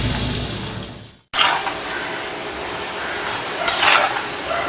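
Eggplant sautéing in oil with salt in a pan, a steady bright sizzle with light stirring and utensil scrapes, broken by a brief gap partway through, close and fairly loud with no talk.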